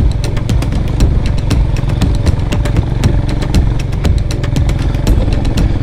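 A Honda CB350RS motorcycle pulls along in first gear, its engine thumping in a loud, steady, close beat with a continuous low rumble and no talk.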